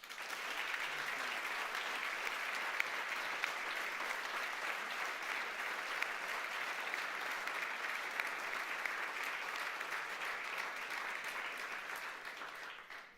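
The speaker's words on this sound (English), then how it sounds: "Please give our panelists another round of applause" Sustained audience applause for panelists at a World Press Freedom Day panel discussion, a steady, even roar of many hands clapping that holds at a moderate level for the whole stretch before tapering at the end.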